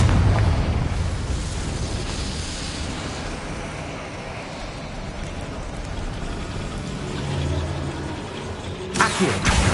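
A Confringo fire spell blasts in the video game Hogwarts Legacy: a dense, roaring explosive rumble that is loud and sustained, then a sharp crackling burst near the end, with no talk.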